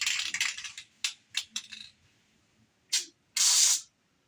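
Spray paint can hissing onto a car roof, short and long bursts of loud close aerosol spray separated by pauses, with the longest blast at the end.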